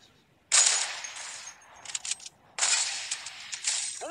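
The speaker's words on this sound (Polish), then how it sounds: "Jaki potężny strzał!" Sharp bursts of gunfire in CS:GO, two loud volleys separated by a short gap with rattling shots in between, fairly close and crisp.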